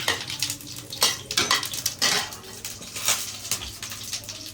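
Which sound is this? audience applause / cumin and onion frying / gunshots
cumin and onion frying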